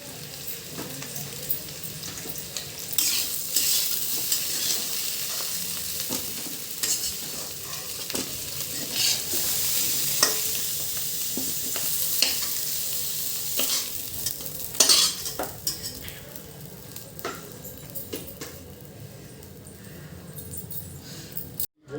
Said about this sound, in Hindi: आलू को थोड़ा सा हल्दी और थोड़ा सा नमक डाल करके अच्छे से कर लेंगे फ्राई